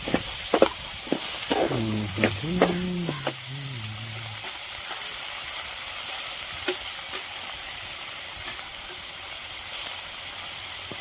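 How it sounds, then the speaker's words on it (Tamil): Amaranth spinach stems sautéing in a pan in a village kitchen, a continuous close hiss and sizzle with scattered stirring clicks, while a voice hums or speaks briefly near the start. "அதனால 2 நிமிஷம் இந்த தண்டு தனியாக வணக்கிடணும்"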